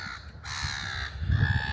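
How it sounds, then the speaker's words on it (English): Noisy seagulls call out in harsh, caw-like cries, loud and close, with two or three overlapping squawks packed into under two seconds and no talking. "they get really noisy seagulls"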